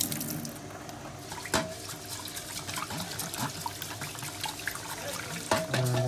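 Basmati rice is rinsed under a running kitchen tap, a soft continuous trickle of water with occasional splashes and light clinks of a bowl, close and fairly quiet.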